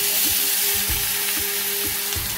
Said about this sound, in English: After about 1 minute of frying these lamb shanks on high heat, we begin to develop some browning.